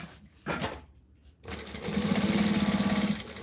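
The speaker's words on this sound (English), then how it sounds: "I'm going to sew the bottom edge as well" A sewing machine runs a steady, even stitching buzz along the bottom edge of a fabric pocket. It starts after a few brief handling noises and continues close and alone.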